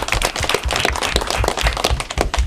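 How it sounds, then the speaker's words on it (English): Students and audience at an elementary school academic quiz competition give a brisk burst of dense, close clapping that stays loud and even for the whole moment. "Round of applause for yourself."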